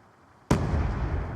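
A single sharp grenade explosion in Call of Duty, bursting suddenly after near silence and leaving a sustained rumbling, crackling decay for the rest of the moment.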